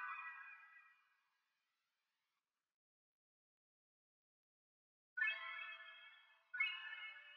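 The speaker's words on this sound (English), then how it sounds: "Next, I added like this mellotron bell sound that just sounds like this." Bright, bell-like Mellotron bell synth tones in an FL Studio dark R&B beat ring out in phrases, with a long silence between the first note and two later chimes that decay gently.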